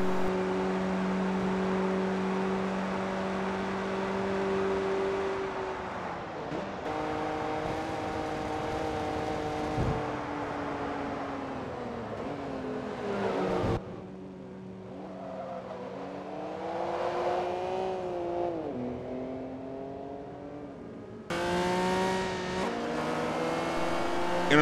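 Race cars lap the Mugello circuit in the Forza racing game, engines droning loudly and steadily, rising and falling in pitch through gear changes, with abrupt cuts and a car rushing past.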